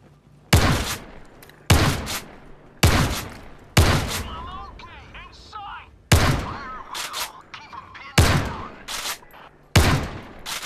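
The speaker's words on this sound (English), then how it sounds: "Long range shotgun shooting." Shotgun blasts fire in the VR shooter game Zero Caliber, eight loud sharp booms spaced roughly a second apart, each with a decaying tail and faint clatter between shots.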